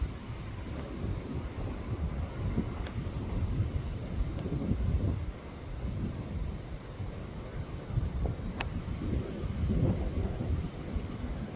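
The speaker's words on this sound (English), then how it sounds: "You can hear the roar of the ocean." Steady low roar of ocean surf heard from a garden, a broad continuous rumble with gentle swells in loudness, no voices.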